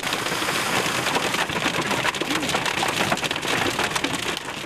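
Fingernail-sized hail pours down around a car stopped on a mountain road, a thick, unbroken clatter and hiss that stays loud and even throughout.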